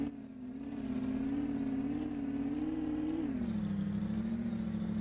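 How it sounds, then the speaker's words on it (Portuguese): Inside the video game Agent Roswell, a car engine whines in a sustained, even drone, dipping slightly in pitch partway through as the throttle eases, heard alone at modest volume. "Olha o barulho desse carro."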